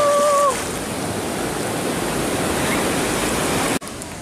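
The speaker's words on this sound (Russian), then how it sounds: "Как всегда, волна, волна, волна." Pacific Ocean waves break and wash over a black sand beach with silvery sand and shells, making a continuous loud roaring surf close by, with a brief whistle-like tone at the start and a sudden dip near the end.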